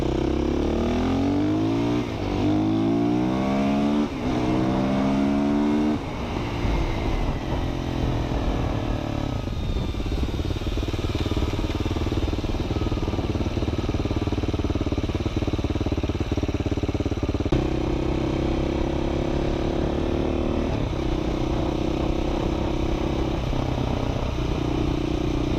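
An SWM SM500R supermoto motorcycle accelerates hard, its single engine rising through the revs in repeated climbs with gear changes, loud, close and continuous without talk.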